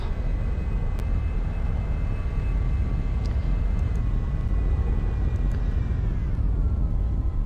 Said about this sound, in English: And we're going to be taxiing to the runway.